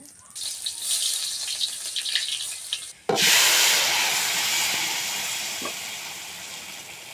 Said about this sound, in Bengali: তেল দিয়ে দিলাম দিয়ে শুকনো মরিচ ছিঁড়ে দিয়ে দিলাম এখন একটু হালকা বেজে নিই